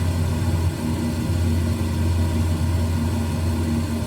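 A Lockheed Electra 10A propeller airliner in flight on approach, its engines droning as a steady, loud, low hum inside the cockpit with no voices.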